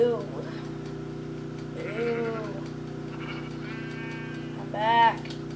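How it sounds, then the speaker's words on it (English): Minecraft sheep bleat in the game, a few short wavering bleats spread over several seconds, with a steady low hum underneath throughout. "I need to kill some sheep first."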